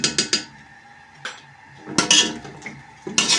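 A pan of garlic being stirred with onions for a black chickpea dish, heard as sharp close clinks and scrapes of a utensil against the pan in uneven bursts, with a quiet sizzle beneath and no talk.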